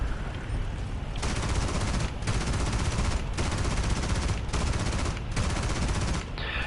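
Rapid automatic gunfire rattles in long continuous bursts from aircraft guns in the combat game War Thunder, loud and close, broken by brief pauses between volleys.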